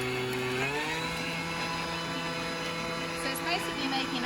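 A kitchen food processor runs at speed 10, blending sugar with lemon zest into icing sugar, a steady motor whine that shifts pitch as it spins up, with a voice partly over it.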